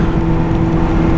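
Sport motorcycle pulling hard under acceleration on a road ride, a loud, close, steady engine drone with a strong low hum and no voices over it.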